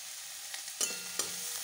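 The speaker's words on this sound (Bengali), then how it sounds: "আমার এই 14 শাক ভাজাটা হয়ে গেছে" A panful of fourteen mixed leafy greens sizzles quietly, with two sharp spatula knocks against the pan partway through and no talking.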